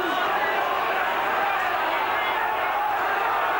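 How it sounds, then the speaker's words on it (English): A large rugby league stadium crowd grumbles and murmurs in a dense, continuous wash during a long stoppage in play, with a commentator talking over the top. "The crowd getting unhappy with this long pause in play"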